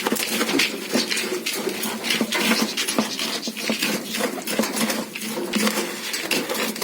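Grainy protein powder being stirred by hand into pigeon feed, a steady dense scratching and pattering rattle of seeds that runs on without pause and close up.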